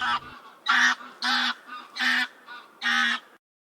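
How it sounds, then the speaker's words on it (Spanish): A goose honks from a free-to-use sound effect of a passing goose, giving five loud, nasal honks in a fairly even rhythm, close and clear with no other sounds. "seleccioné un sonido de un ganso que va pasando"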